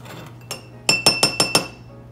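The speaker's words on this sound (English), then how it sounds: "using the muddler, we're going to grind up the sugar with the bitters to help dissolve the sugar" A muddler working sugar and bitters in a cocktail mixing glass for a Sazerac, heard as a quick run of five bright glassy clinks after a couple of softer taps, close and with no talk.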